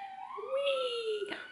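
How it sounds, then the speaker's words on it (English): Siren wailing outside on a city street, a single rising and falling tone heard at moderate distance through a window, fairly faint and steady with no talk over it. "sirens outside. That's the usual noise we hear every single day."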